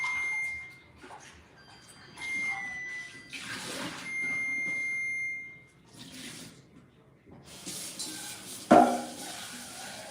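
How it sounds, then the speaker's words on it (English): Electronic beeps ring out in short, steady tones several times over quiet kitchen clatter, with a sharp clank of metal near the end. "You hear the oven beeping because I turned it up a notch."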